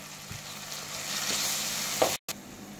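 Spices frying and being stirred in a pan for chicken curry, a steady close sizzle with a few scraping stirs, broken by a brief dropout near the end.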